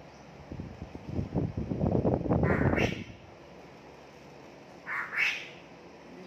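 A pet bird being trained gives two brief, high chirps, one after a burst of close rustling and handling noise and another a couple of seconds later, both fairly faint.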